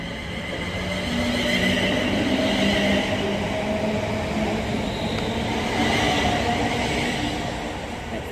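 A Class 360 electric train pulls into Colchester station on the Great Eastern Main Line, a loud, broad, continuous rumble of wheels and motors with faint tonal whine, swelling slightly and holding steady throughout.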